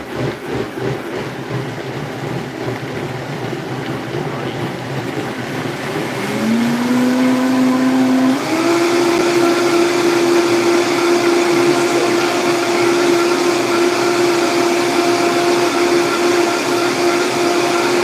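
A blender whirs through kale, almond milk and protein powder for a smoothie, its motor spinning up to a loud, steady high whine that holds to the end.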